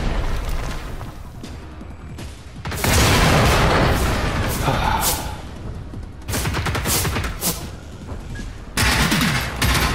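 Bursts of automatic gunfire and booming shots in the video game Generation Zero, loud rapid volleys arriving in several separate clusters with brief lulls between them.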